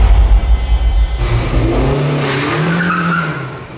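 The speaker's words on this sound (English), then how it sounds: "You think the Honda engineers would make a car that could do reverse burnout?" A 2018 Honda Civic Type R roars and revs loudly in reverse, its tires squealing in a rising, wavering burnout screech that holds to the end.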